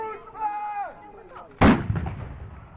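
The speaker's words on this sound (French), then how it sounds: "Attention, coup de feu." After a voice speaks, a single heavy medieval siege cannon shot booms out loudly and rumbles away at a castle show, with a brief cheer-like voice afterward.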